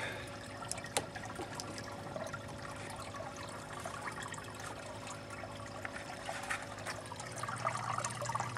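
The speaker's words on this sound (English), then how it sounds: "Gonna open this first pipe." A small pump pushes water into a DWC hydroponic pipe, giving a faint, steady electric hum under a soft continuous rush and trickle of flowing water, with one light knock near the start.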